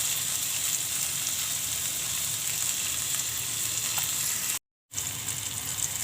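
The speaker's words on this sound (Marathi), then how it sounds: "कांदा चांगला भाजला आहे. थोडासा टोमॅटो टाकते आणि कढीपत्ता," Onion, tomato and curry leaves sizzling in a pan for a tondli vegetable dish, a loud continuous frying hiss with a brief dropout near the end.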